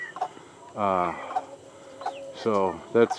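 Welsummer chickens cluck and call near a fenced yard in a few short, moderately close bursts, with brief quiet gaps between them.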